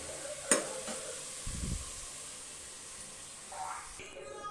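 Food fries in a pan for biryani, a soft steady sizzle with a sharp utensil knock and some brief stirring scrapes close by.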